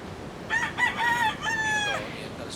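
Oriental Sweater gamefowl roosters crow in a yard, two or three drawn-out cock-a-doodle-doo calls in quick succession, moderately near over quiet background hiss.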